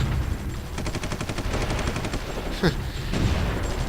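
Bombardment gunfire in the strategy game Supreme Ruler 2020 rattles in fast, steady bursts, moderately loud, with a brief whistling swoop partway through.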